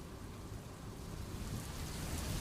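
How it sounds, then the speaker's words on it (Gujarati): Steady, heavy rainfall over flooded Ahmedabad streets roars with a dense wash of noise and a deep low rumble underneath, continuous and loud. "અહીં ભારે વરસાદ વરસવાનું શરૂ થઈ ગયું હતું।"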